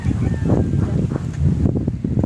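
Steady wind blows across the microphone with low rumbling gusts and a soft rustle, continuous throughout the short stretch.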